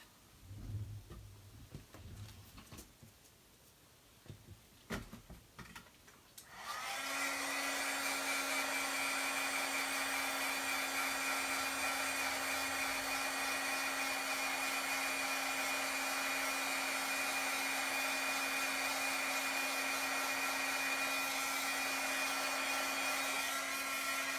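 After a few faint handling clicks, a heat gun switches on and blows a loud, steady whine with a constant tone, heating embossing powder on a card and running unbroken to the end.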